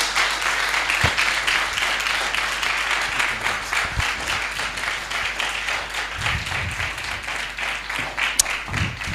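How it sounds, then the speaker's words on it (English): Audience at the launch of Kenya's National Plastic Action Partnership applauds steadily, a moderately loud, sustained patter of many hands clapping with no voices over it. "just in case you think that is how we just clap at a big launch like this"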